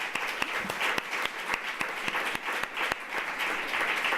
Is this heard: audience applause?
yes